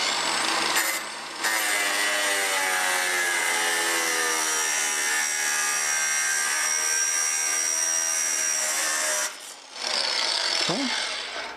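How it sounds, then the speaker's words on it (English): A Ryobi power saw cuts through an aluminum frame piece, a loud, steady high-pitched whining cut running about eight seconds without pause, then stopping briefly before a short final burst. "And use my Ryobi here. I'm gonna cut this right in half."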